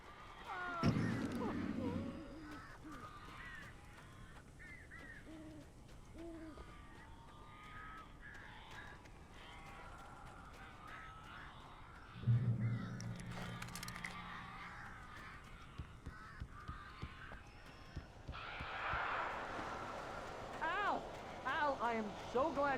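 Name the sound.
crows cawing in the video game Alan Wake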